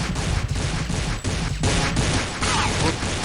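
Rapid bursts of gunfire from the classic early-2000s shooter Counter-Strike pour out in dense, loud volleys, nearly continuous, with brief breaks between strings of shots.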